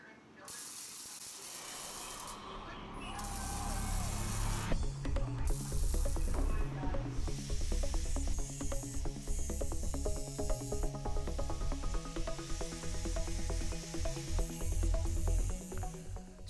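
Tack welding a nut onto a bolt threaded into it while making a valve seal removal tool: a steady loud crackling, sputtering hiss of the welder runs throughout, with brief pauses and restarts between welds.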